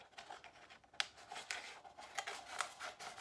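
Scissors cutting an infusible ink transfer sheet, a series of soft, close snips and paper rustles with one sharper click, quiet and unaccompanied.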